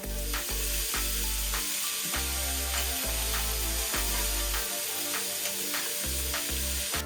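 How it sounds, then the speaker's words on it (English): Turkey chili ingredients sauté in a pan, a continuous loud sizzle broken by repeated scraping and stirring strokes, with no talking. "We're going to just put it in a pan so we can move it around, mix it all together, and saute that bad boy"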